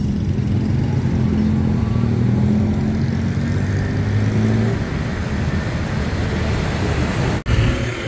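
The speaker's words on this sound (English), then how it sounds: "Getting a little bit of traffic on Ratchathani here, heading towards Phetchaburi." Afternoon road traffic on Ratchathani street in Bangkok, a loud continuous engine drone of passing cars and motorbikes close by, with one vehicle revving past near the end.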